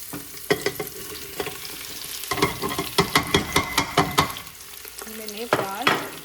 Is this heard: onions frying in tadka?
yes